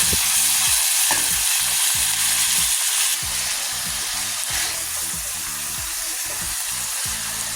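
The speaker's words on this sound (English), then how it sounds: "So now I'm frying up the seasonings and I'm getting them ready for the saltfish." Constant bright sizzling of seasonings frying in a pan for saltfish, close and steady, with occasional scraping from a utensil.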